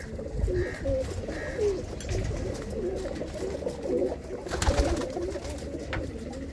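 Home-loft flying pigeons give repeated soft, throaty coos near the listener, steady and overlapping, with a short burst of rustling flutter partway through.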